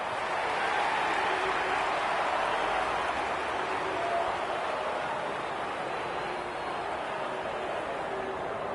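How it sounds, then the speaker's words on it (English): A large stadium crowd roars in a steady, broad wash of cheering noise throughout, during a preliminary final between Geelong Cats and Adelaide in the AFL 26 video game. "The crowd noise tells you all you need to know."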